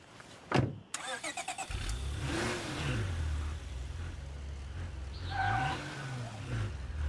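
A car engine in the zombie survival game State of Decay 2 starts with a sharp burst, then revs and rumbles steadily with rising and falling pitch, close and fairly loud, with a few clanks over it.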